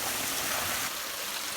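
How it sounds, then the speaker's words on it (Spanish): Steady rushing roar of a waterfall below a mountain hermitage in the Aragonese Pyrenees, a constant broadband wash of falling water heard up close, with no voices. "Mirad qué cascada hay aquí abajo de la ermita."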